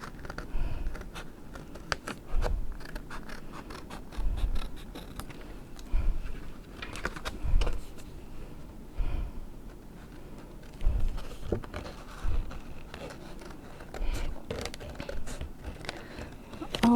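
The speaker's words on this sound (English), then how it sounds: "I'm just going to fussy cut around him using scissors" Repeated short snips of scissors cutting through stiff card, irregular and close, with faint rustling between cuts.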